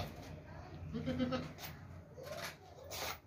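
Goats at an outdoor animal sale bleating in short, faint cries amid background chatter and crowd noise.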